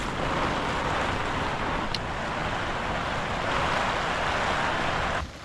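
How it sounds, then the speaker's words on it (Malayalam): Strong wind gusts roar continuously across a hilltop campsite as rain approaches, a loud broad blustering rush with no pause, easing slightly at the very end. "നല്ല കാറ്റ്."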